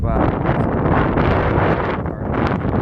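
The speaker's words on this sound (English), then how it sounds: "it's already getting quite windy and really cold" Steady, loud wind buffets the microphone at 3,600 feet on a mountain in Denali National Park, Alaska, a constant roaring rush with gusty fluctuations and no clear pauses, in cold conditions.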